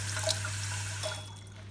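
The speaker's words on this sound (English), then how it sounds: "I'm rinsing the rice grains under running water." Rice grains are rinsed under a running tap in a bowl, a soft trickle and splash of water with a couple of brief louder sloshes over a steady low hum, close and quiet, with no talking.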